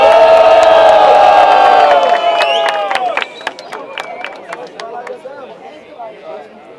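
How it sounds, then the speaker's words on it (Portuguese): Crowd cheers, whoops and shouts at a Brazilian freestyle rap battle, a loud sustained roar that fades after a few seconds into scattered whistles and shouts. "Barulho só pra quem achou que foi Hope"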